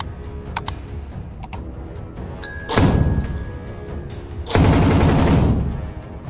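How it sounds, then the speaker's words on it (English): Kord heavy machine gun captured from Russian forces, fired in combat by a Ukrainian soldier: a few sharp reports, then two sustained roaring bursts, loud and close. "A Ukrainian soldier uses the cord machine gun he seized from Russian soldiers"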